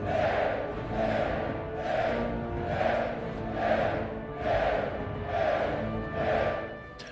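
Arena crowd in the film Gladiator (2000), a massed roar swelling and falling in a steady rhythmic pulse roughly every second, loud and continuous with no clear talk over it.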